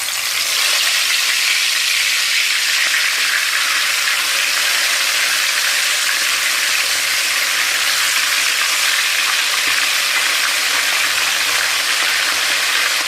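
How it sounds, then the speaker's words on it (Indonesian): Fish frying in hot oil in a pan, a loud, steady, close hiss and crackle of sizzling that runs unbroken without any talk. "Woi, ini ikannya mau Ila goreng tuh"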